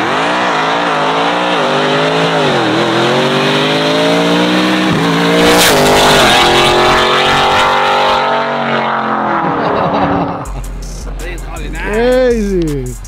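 A supercharged VMP Ford F-150 accelerating hard on a pull: a loud, rising engine roar with sweeping pitch changes as it climbs through gears, close and dominant, with people talking faintly underneath.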